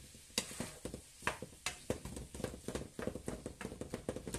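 Vegetables sizzle steadily in a pan while being stirred, with repeated close tapping and scraping of a utensil against the pan in a loose, uneven rhythm.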